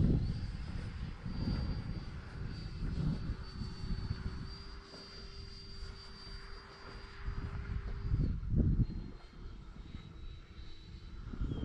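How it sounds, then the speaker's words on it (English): A model jet engine roars continuously as an X-Fly Sirius radio-controlled jet passes on a windy day, its steady whine rising and falling with gusty rumble underneath; no voices. "What a jet."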